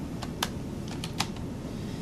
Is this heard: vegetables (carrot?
no